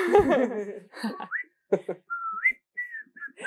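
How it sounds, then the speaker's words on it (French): A woman whistles a K-pop melody in short bright phrases with pauses between them, close and clear, after a burst of laughter and talk at the start. "je me suis entraînée à siffler sur les musiques de K-pop"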